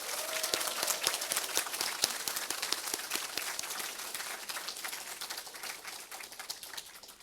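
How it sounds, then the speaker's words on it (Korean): Sustained applause from a large audience at a Korean political party founding event, dense steady clapping filling the whole stretch and easing off slightly toward the end. "다시 한번 큰 박수 부탁드립니다."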